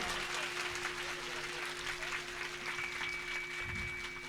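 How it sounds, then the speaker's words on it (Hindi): A stage-show audience claps steadily in welcome of the chief guest at a devotional Chhattisgarhi song program, a dense, continuous wash of applause over a steady tonal hum, with a brief voice near the end. "एक बार हमारे मुख्य अतिथि जी के स्वागत में जोरदार ताली हो जाए"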